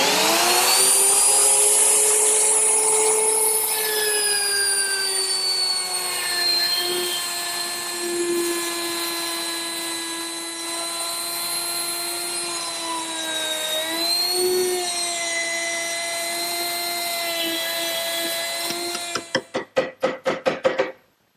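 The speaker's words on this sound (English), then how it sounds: "I use my router with a 3/8-inch rabbeting bit" A router fitted with a 3/8-inch rabbeting bit cuts a narrow wooden board for a medicine cabinet, giving a loud, steady, high-pitched whine for about nineteen seconds before a brief fluttering spin-down.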